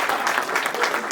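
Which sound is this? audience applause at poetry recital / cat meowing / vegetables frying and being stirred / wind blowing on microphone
audience applause at poetry recital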